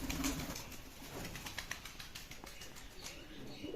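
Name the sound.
grey flying pigeons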